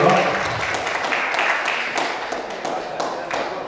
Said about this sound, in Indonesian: Boleh kita beri tepuk tangan untuk Mas Indra Tranggono.